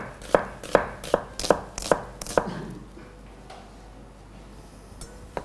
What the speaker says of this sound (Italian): se i cipollotti sono come questi qui, le fate direttamente così in 4 pezzettini